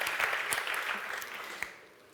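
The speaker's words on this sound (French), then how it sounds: "Merci de les applaudir." Audience applause at an awards ceremony for brand content trophies, a dense wash of clapping that fades out toward the end.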